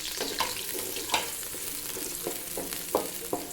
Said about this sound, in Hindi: प्याज को हम हल्का सा गोल्डन होने देंगे।